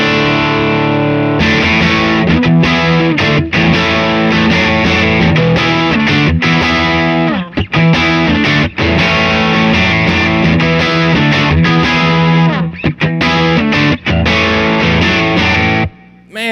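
An electric guitar plays through a Matchless Clubman amp set for high gain, loud, thick distorted chords and riffs ringing continuously for about sixteen seconds with brief gaps between phrases.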